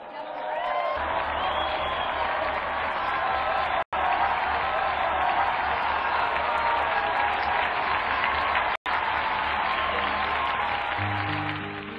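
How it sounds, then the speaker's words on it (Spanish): Sustained crowd applause honoring the martyrs Saint Paul Miki and companions and Saint Mateo Correa Magallanes, dense steady clapping with a few cheers, broken twice by brief dropouts and fading toward the end. "brindemos nuestro más ferviente aplauso a sus mártires San Pablo Miki y compañeros y a San Mateo Correa Magallanes."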